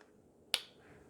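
The hanging hook on a Horusbennu QZSD-999HL tripod's center column gives a single sharp, close click when turned half a turn, with quiet room tone before and after.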